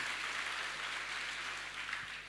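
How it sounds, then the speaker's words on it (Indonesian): A congregation at a church prayer fellowship claps together, a steady, fairly faint and distant hiss of many hands that holds evenly throughout. "Tepuk tangan bagi Allah kita."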